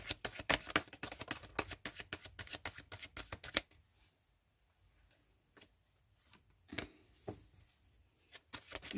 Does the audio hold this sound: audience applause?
no